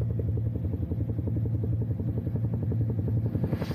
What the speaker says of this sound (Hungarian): Füstölgő erdők fölé érkeznek a szerb helikopterek a görögországi Évia szigeténél